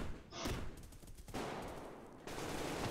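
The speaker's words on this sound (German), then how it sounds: "Hat schon der erste Typ auf mich geschossen." Gunfire in the online shooter Survarium comes as rapid automatic bursts separated by short pauses, loud and sharp against a quiet background, with no talking.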